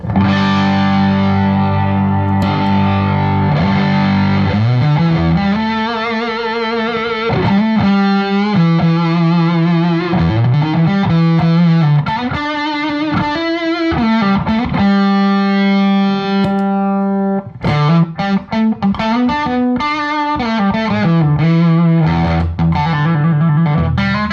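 An electric guitar through a tube overdrive pedal and an EL84 power tube mini amp, with warm, gritty overdrive, plays a riff of sustained chords and single notes, ringing out alone and fairly loud.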